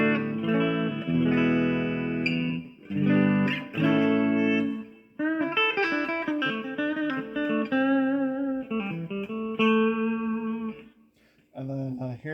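A clean electric guitar fitted with its original tremolo block plays strummed chords and melodic single-note runs, with a few short pauses between phrases.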